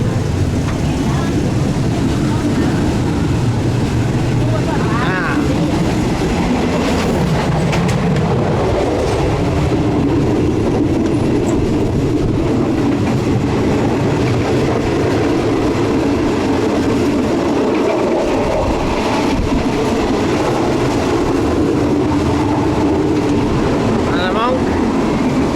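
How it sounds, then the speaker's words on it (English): A regular Thai train rolls past close by, its wheels beating a continuous loud rumble with clickety-clack rhythm throughout, while people talk under the noise. "it's just your regular Thai train."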